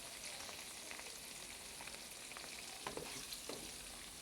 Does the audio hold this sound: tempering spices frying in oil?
yes